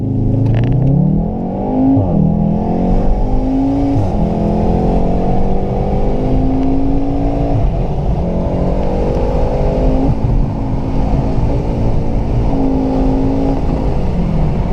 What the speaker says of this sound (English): So I'm going to take the Golf R and see how it drives.